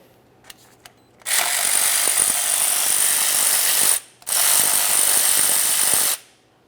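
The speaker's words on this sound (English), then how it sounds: "To get this off of here, we'll use a 13mm socket." A ratchet fitted with a 13mm socket turns a starter wire nut on a 2001-2005 Ford Explorer Sport Trac, making two long, loud, steady bursts of rapid clicking with a short pause between, close up and without talk.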